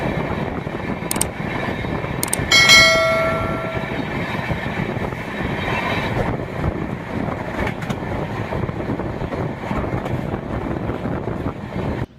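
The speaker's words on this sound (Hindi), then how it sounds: "तो दोस्तों यहाँ पे हमारी ट्रेन ओवरटेक कर रही है अवध एक्सप्रेस को।" Amrapali Express passenger train running at speed while overtaking the Awadh Express, a steady loud rail roar with wind buffeting and a few brief higher screeches and clanks, no voices.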